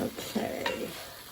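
Chicken being stirred into simmering chicken noodle soup, a steady close scraping and sloshing with a faint sizzle underneath, continuous for the whole moment with no talking.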